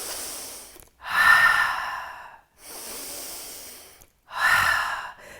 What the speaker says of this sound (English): take 2 breaths here